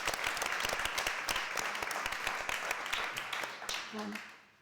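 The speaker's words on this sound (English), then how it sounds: "So yes, a round of applause to all of you." Audience applause at a talk on closing the literacy gap for children, with quick claps that fade out at the end and a voice briefly audible beneath the clapping.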